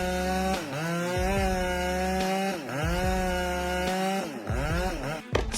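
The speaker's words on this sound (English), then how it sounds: "STIHL chainsaws like the lightweight MS-261 are popular in France." A STIHL MS-261 chainsaw cuts into a tree during felling in a French forest, its loud, steady engine whine dipping and recovering in repeated bogs as the chain bites the wood, with no talking.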